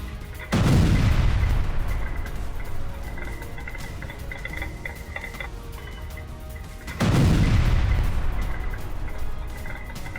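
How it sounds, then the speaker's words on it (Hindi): Two deep, booming explosions in Kyiv a few seconds apart, each a sharp blast followed by a long rumbling decay, with no speech. "कीव में सुना गया जबरदस्त धमाका।"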